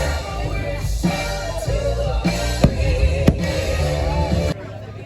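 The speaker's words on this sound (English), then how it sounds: "now we're on our way back to watch the fireworks" Fireworks at Walt Disney World boom out in a run of deep, rolling bursts, with a few sharper cracks standing out over a steady crowd murmur before the noise drops off near the end.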